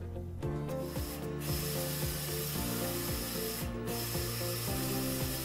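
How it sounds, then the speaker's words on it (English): A Roland inkjet printer runs steadily through a calibration test chart, its carriage and feed mechanism producing a continuous mechanical whir with regular rhythmic clicks and ratcheting sweeps, loud and close with no talking. "From the calibration settings, click on Print to print the test chart."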